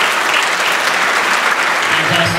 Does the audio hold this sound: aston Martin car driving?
no